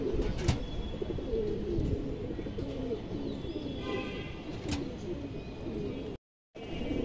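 Pigeons coo in a low, continuous rumble close by, with a couple of sharp chirps above it and a brief dropout near the end; no clear speech.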